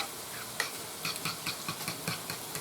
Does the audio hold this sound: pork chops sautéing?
yes